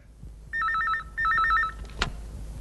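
A telephone bell rings in two clear bursts of rapid trilling against a quiet room, followed by a soft knock or click, with no talking over it.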